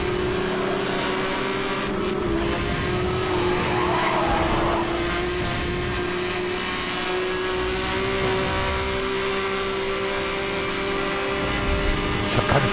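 Several racing cars in Need for Speed Hot Pursuit Remastered, a Lamborghini among them, roar along side by side in a continuous loud engine drone with hints of tire squeal, with no talk over it.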